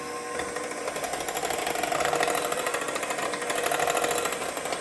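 Wet ingredients for a pumpkin spice loaf being mixed by a hand or electric mixer, giving a steady, continuous whirring buzz that holds at an even level with no talking.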